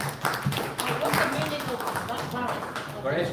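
An audience claps at a product launch for a dCS Varese audio device. The scattered applause runs under a man's speech over a PA and stays at a moderate level throughout.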